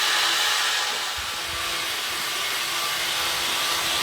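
A wooden wheel being sanded for a final pass before staining, giving a steady, loud, continuous broadband whir like a power sander, with no voices over it.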